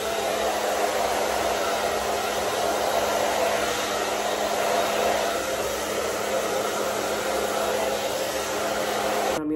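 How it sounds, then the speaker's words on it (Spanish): A hair dryer blows steadily and loudly at close range for the whole stretch while hair is dried with a brush, a constant even roar with no talk. "me voy a secar así con el cepillo."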